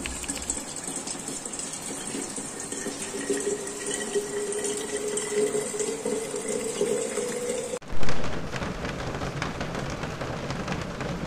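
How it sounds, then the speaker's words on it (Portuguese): Steady rushing water from a small waterfall at Bonete, Brazil, fills the scene for about eight seconds, then a brief jolt gives way to a rougher, broader wash of falling water. "Tô aqui na cachoeira de novo."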